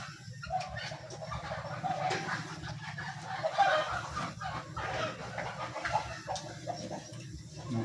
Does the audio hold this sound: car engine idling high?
no